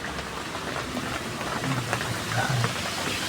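Rain falls steadily at a roadside food stall, a continuous hiss of drops that swells slightly toward the end, with faint voices in the background.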